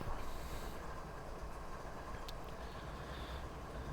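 Steady low rumble and hiss of a long, heavy freight consist rolling along the Marias Pass line in Train Simulator, a continuous broad drone with a faint metallic ping partway through, no voices.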